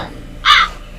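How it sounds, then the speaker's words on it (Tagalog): A single loud crow caw, harsh and nasal, rising abruptly over a quiet background and fading after about a quarter second. "Narinig yung tugtog, ano yan, yung huni ng uwak."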